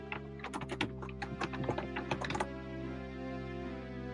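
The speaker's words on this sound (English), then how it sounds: "My keyboard is a mechanical keyboard. I apologize in advance if I'm being too loud." Fast clattering keystrokes on a mechanical keyboard, a quick irregular run of close clicks that stops abruptly partway through, leaving a steady low electrical hum.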